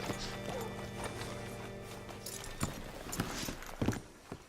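Horse hooves clip-clop in an uneven walking rhythm in Red Dead Redemption 2, fairly close, over a low steady background hum, with a few sharper thuds toward the end.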